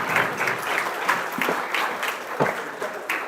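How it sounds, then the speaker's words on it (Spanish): Audience clapping for a doctor after a presentation at a surgical training course, a steady crowd applause spread across the whole stretch with no voices over it. "reiterar un fuerte aplauso pues para el doctor por esta brillante exposición"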